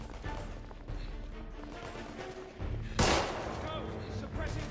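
Gunfire during a street fight in The Order: 1886, a steady rattle of shots under a game soundtrack with one loud, sharp burst near the middle.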